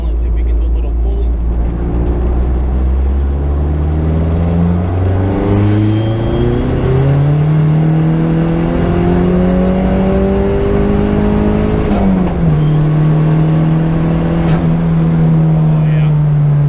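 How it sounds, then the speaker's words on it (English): An SRT-4 swapped Neon pulls hard in third gear, its loud in-cabin engine note climbing steadily for about twelve seconds, dipping at a shift and then holding a high drone. "I am in third gear right now. Let's see if we can do a little pulley."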